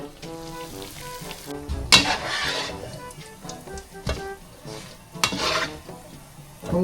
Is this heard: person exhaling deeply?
no